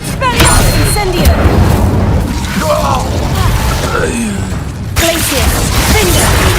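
Spell effects from a Harry Potter video game, loud booming magical bursts and crackles cast in quick succession, with a voice speaking over them.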